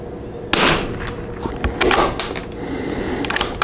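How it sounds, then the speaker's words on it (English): A Vudoo 360 rifle with a Krieger barrel fires one sharp report of SK semi-auto rimfire ammo at a 100-yard target, followed by softer clicks and handling noises. The shot is close and loud. "SK Semi-Auto, 100 yards."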